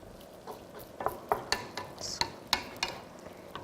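Onions and ground beef cooking for chili in a pot, a soft sizzle under repeated light scrapes and taps of a spoon stirring, fairly quiet and close.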